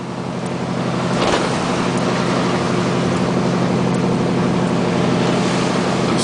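An off-road vehicle drives along a slick, rain-soaked logging main line on Vancouver Island, its engine and tires making a loud, steady drone with a constant wash of road and rain noise.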